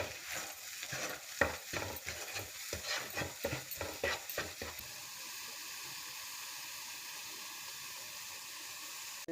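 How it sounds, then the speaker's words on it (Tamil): Vegetables and salt for pav bhaji are stirred in a frying pan with rapid, rhythmic scraping strokes over a sizzle for several seconds, then the steady frying hiss carries on alone. "உப்பு தேவையான அளவு உப்பு போட்டு எல்லாம் மிக்ஸ் பண்ணிக்கணும்."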